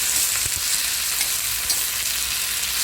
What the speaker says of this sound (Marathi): आपला कांदा भाजत आलेला आहे, त्यामध्ये आपण आपला टोमॅटो टाकायचा हवा।